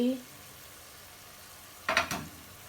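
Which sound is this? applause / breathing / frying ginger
frying ginger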